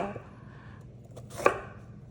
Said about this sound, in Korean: 2, 3cm 두께로 도톰하게 썰어서 먹기 좋은 크기로 썰어서 준비해 주세요